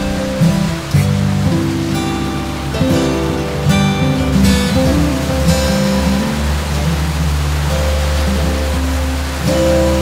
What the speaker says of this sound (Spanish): cuando el agua cae por la cascada y se golpea la espalda